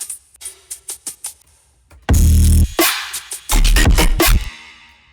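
Quantized breakbeat played with its full tails left ringing, not chopped: a run of soft, quiet hits gives way to loud, long, sustained drum bursts with heavy low end. No voices.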